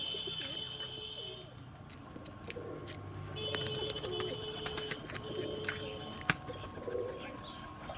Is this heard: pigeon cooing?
yes